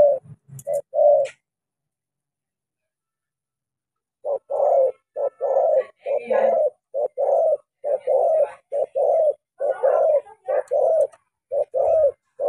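A caged spotted dove coos in repeated rhythmic phrases, close and clear, after a brief pause near the start, with faint chirps in the background.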